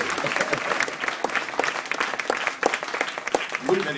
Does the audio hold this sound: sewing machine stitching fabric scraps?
no